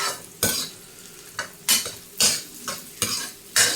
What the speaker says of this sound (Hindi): इसे हम बिल्कुल मीडियम, मतलब लो फ्लेम पर गोंद को हमें भूनना है।